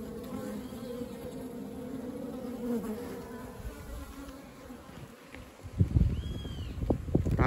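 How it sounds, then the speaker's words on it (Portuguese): Honeybees hum in a steady, close drone around a small queen cage holding worker bees during beekeeping, with handling knocks and rustles toward the end. "a abelha está ali tirando as operárias dentro da gaiolinha"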